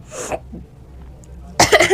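Two sharp, loud coughs up close, separated by a second of quiet.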